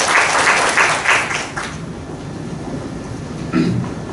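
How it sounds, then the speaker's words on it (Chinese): Audience applause in a seminar classroom, a burst of clapping that fades out within a couple of seconds, followed by quieter room noise and a brief shuffling sound. "好，放下，给他们鼓掌一下，"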